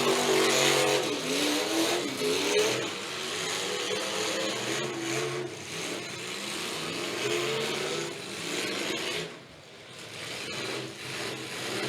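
An old-school team demolition derby car engine revs hard and close, its pitch climbing and wavering in repeated surges over a noisy arena background before dropping off near the end.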